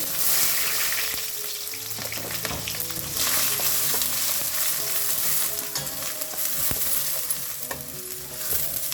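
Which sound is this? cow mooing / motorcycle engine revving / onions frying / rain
onions frying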